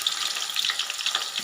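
Onions and garlic fry in a pan for aloo rice, giving a steady, close crackling sizzle with tiny pops throughout.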